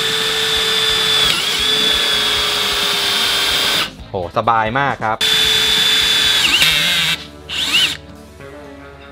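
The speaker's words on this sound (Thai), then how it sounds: "เริ่มจากเจาะเหล็กกล่องก่อนนะครับ" A KEYANG DM18BL cordless drill boring into steel box tubing: a high motor whine that dips under load, then choppy bursts and surges as the bit works through the metal, with someone speaking briefly near the end.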